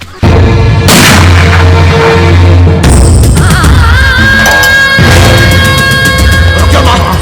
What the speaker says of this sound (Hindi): अरे शक्ति जी वो पटाखे तैयार हैं क्या?